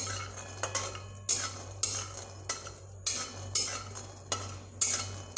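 Peanuts are stir-fried in a kadai: rhythmic metal spatula scrapes and rattling strokes, roughly two per second, ring out loud and close over a faint background hum, with little audible sizzle.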